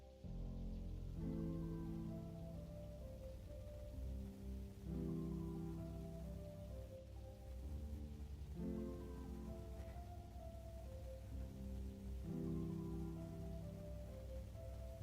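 Steady rain ambience playing on a stream, a constant patter of drops on a surface under soft background music with repeating chords, moderately quiet throughout with no speech.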